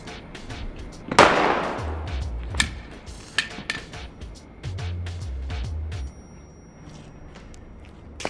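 Blank cartridges fired from guns, several sharp, irregular cracks and pops at moderate distance, one louder than the rest, heard over low background noise and faint talk.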